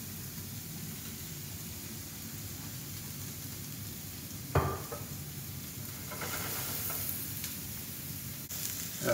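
Onion and pepper sautéing in a little olive oil for Italian sausage linguine, a soft, even hiss of frying held close and low, with one sharp utensil knock midway and a faint clink near the end.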